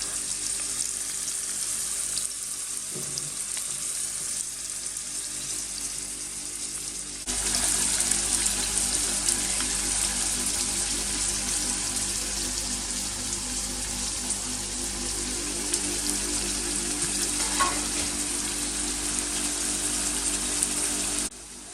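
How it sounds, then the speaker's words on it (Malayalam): Capsicum and onion sauté in hot oil for South African chakalaka, a dense continuous sizzle that grows louder partway through and holds steady, with no voices. "അത് നന്നായിട്ടൊന്ന് ആ എണ്ണയിൽ കിടന്ന് തന്നെ നന്നായിട്ടൊന്ന് വഴറ്റിയെടുക്കും"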